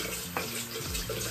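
Tap water runs steadily into a sink during teeth brushing and face washing, a continuous close splashing hiss with small shifts as hands move through the stream.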